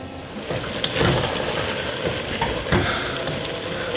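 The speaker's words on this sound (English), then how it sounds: "the onions are cooking down nicely. They're getting nice and mushy and soft, and you can see they're starting to caramelize." Onions for French onion soup frying and softening in a pan, a steady close sizzle and crackle with occasional stirring scrapes, no voices.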